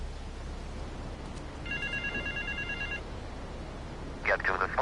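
Telephone ringing in a video game: a short electronic ringing tone sounds once and then again near the end, faint to moderate behind steady background noise, and people talk in the game alongside it.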